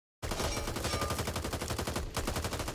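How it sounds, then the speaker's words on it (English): Gunfire in the video game Back 4 Blood: a rapid automatic burst of shots in a fast, steady rhythm, loud and close, starting abruptly after a brief silence with one short gap near the end. "Who's shooting me?"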